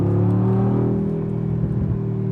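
A 2021 Mercedes-AMG G63 drives through a corner, its engine giving a steady, loud rumbling drone with layered harmonic tones that swell slightly toward the end, heard close with no talk.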